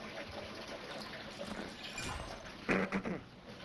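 A player in the Modern Warfare 3 video game moves through water, giving soft sloshing and splashing under quiet background noise, with a louder splash burst near the end.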